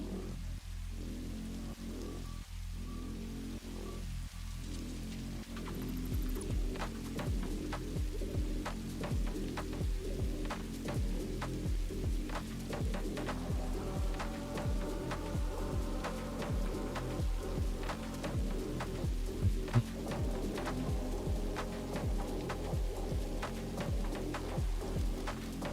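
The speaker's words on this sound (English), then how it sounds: "This rain is starting to get a little annoying." Rain in the video game Satisfactory, a continuous patter of drops on surfaces with scattered sharper ticks and a low steady hum beneath, growing denser after the first few seconds.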